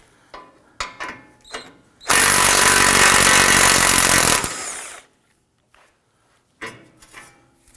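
Power tool zipping a nut off the ball joint of a 2015-2020 Ford F-150, a loud continuous whirring burst of about two seconds, framed by a few clanks and taps of metal.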